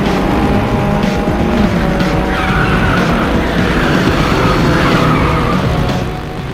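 Race car drifting around a bend in the racing video game Cybernet, a continuous loud engine roar with a rising tire squeal running through it, steady throughout and easing off at the very end.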